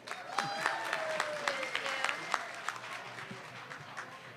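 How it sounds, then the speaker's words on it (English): An outdoor crowd at a park party applauds in a loose round of clapping with sharp individual claps standing out, moderately close, while a voice speaks and a drawn whistle-like tone slides through the middle. "Give them a round of applause again"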